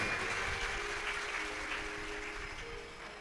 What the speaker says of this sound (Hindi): एक बार इनके लिए जोरदार ताली बजाओ।